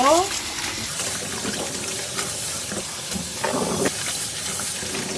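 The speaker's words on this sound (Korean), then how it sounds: "이렇게 깨끗하게 세 번은 꼭 씻어주셔야 돼요" Tap water runs steadily over perilla leaf shoots in a basin, a continuous splashy rush with occasional handling sloshes. A voice briefly comes in at the start.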